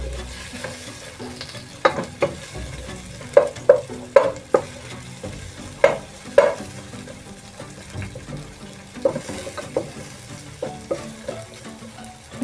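Onions fry in oil for beetroot rice and are stirred repeatedly. A spoon scrapes and taps the pan in uneven bursts over a constant close sizzle.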